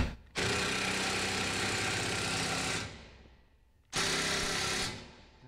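A power tool, likely an impact driver or drill, tightens a nut on a garage door track during installation, giving two sustained buzzing runs of a few seconds each with a short pause between, close and steady.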